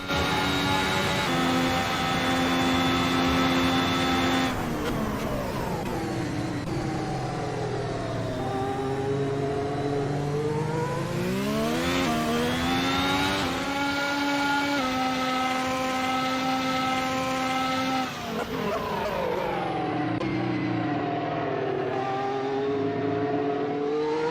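A Formula 1 car in an Assetto Corsa F1 2018 simulation mod: a loud, high-pitched engine whine climbs and drops repeatedly through revving and gear changes, continuous and close, with no talking.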